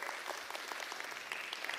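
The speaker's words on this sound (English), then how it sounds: "Round of applause?" A church congregation gives a short burst of applause, quiet and distant-sounding, lasting under two seconds.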